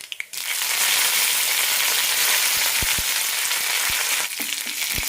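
Curry leaves hit hot coconut oil already popping with mustard seeds, for an ash gourd pachadi: a few sharp pops, then a sudden loud, steady sizzle with scattered crackles that eases near the end.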